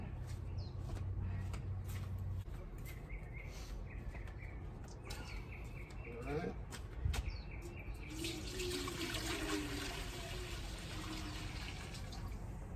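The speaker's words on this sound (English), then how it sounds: "I'm just gonna go around the corner here to my faucet and get some water." Water runs steadily from an outdoor faucet into a bucket, a continuous rushing wash heard alone with faint birds in the background.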